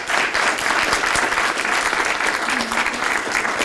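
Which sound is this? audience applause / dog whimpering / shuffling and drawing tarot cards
audience applause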